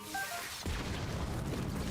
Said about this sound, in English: Oh, it's a cannon.